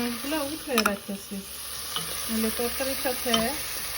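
Shrimp fry in curry in a pan with a steady, close sizzle and occasional stirring scrapes, while someone talks over the cooking.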